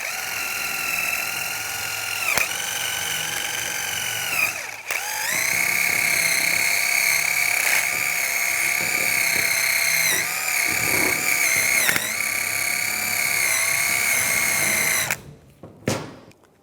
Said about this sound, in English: take a wire brush and just clean up any corrosion or any rust buildup